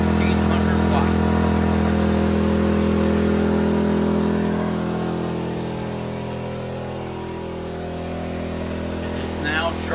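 An EcoFlow smart generator engine running steadily, a loud, close, even hum with a strong low drone that dips slightly in the middle and picks up again near the end.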